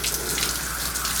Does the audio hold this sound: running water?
yes